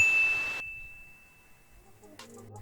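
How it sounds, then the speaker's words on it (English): Notification bell ding sound effect: a single bright, sustained chime that rings steadily and fades slowly over about two seconds, followed by a brief clatter. "ring that bell so you never miss a video again"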